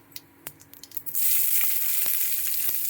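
Onions fry in a pan after cumin for a home-cooked meal. Sharp stirring clicks come first, then a loud, constant sizzle takes over while occasional utensil taps sound through it.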